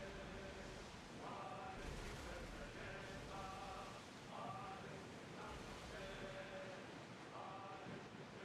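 Ocean waves in the video game Assassin's Creed Odyssey wash in a steady surf roar with wind, while faint tonal game sounds recur every second or so in the background.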